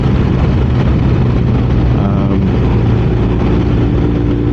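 Motorcycle engine running steadily while riding, a continuous loud rumble with slight pitch shifts as the rider works the clutch and moves through the gears, no talk over it.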